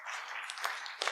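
Audience applause at an energy-technology pitch event: a short burst of scattered hand clapping, moderately distant and fairly quiet, with a few sharper claps near the end.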